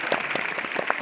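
Audience applause at a live stage seminar on stock options trading, a brief burst of scattered, moderately loud clapping with a few sharper individual claps.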